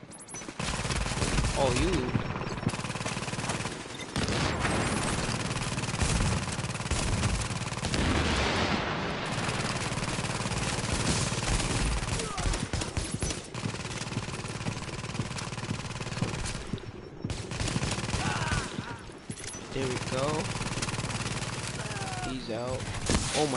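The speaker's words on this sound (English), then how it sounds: "Oh my god, somebody's shooting me." Dense, sustained automatic gunfire from shooters in the video game The Division rattles almost continuously with brief gaps, loud and busy, while a player exclaims over it.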